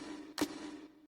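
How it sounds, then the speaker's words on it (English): A percussion hit in an electronic beat: a single sharp broadband click near the middle, over a sustained droning pad tone, fairly quiet and with no voices. "Percussion."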